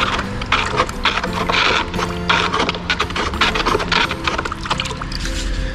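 A trowel stirs a mortar mix for pointing, gauged with a bonding additive, producing a continuous gritty scraping and clinking churn that is close and fairly loud, with no talking.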